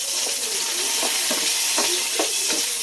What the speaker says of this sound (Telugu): ఇక పచ్చిమిర్చిని తాలింపు వేస్తున్నా